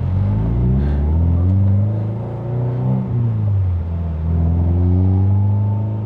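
Subaru STI with a catless exhaust cruising on a road, a steady deep engine rumble close by with gentle rises and dips in revs and no talking.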